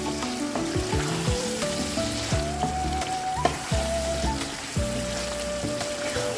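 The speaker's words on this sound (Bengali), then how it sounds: "কষিয়ে ভালো করে রান্না করব" Beef rezala sizzles and fries steadily in a pan, a dense continuous crackle with occasional stirring scrapes, close and fairly loud with no talking.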